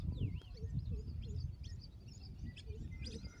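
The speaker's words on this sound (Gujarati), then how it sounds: "સવારના પંખીડા" Birds chirp in the morning, faint, scattered tweets and short calls rising over a low, steady background rumble, some distance away, with no clear talking.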